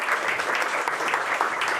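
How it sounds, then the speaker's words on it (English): A seminar audience at a vascular science event applauds steadily and loudly, dense continuous clapping filling the whole stretch with no speech on top. "Another round of applause for Martina"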